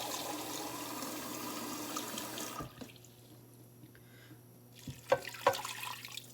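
Water poured into a cooking pot for beef ribs with bouillon: a steady splashing pour that stops abruptly, followed by a few faint drips and clinks in a quiet kitchen.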